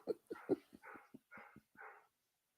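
A dog barks close by in a quick run of about a dozen short, yappy barks and whimpering yips, then falls silent.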